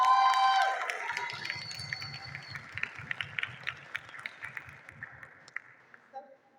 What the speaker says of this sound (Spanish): Recibamos a Mariana con un fuerte aplauso